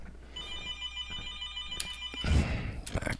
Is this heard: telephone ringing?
yes